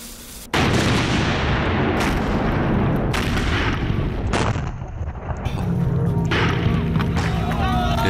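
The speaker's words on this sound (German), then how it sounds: "Der Test der kleinkalibrigen Geschütze verläuft erfolgreich." Small-calibre cannons fire during a weapons test, a series of heavy booms and blasts recurring every second or so, loud and close, with continuous rumbling between shots.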